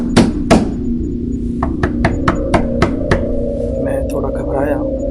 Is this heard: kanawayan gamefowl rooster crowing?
no